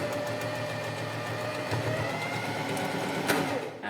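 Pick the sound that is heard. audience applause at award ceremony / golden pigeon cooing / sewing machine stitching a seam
sewing machine stitching a seam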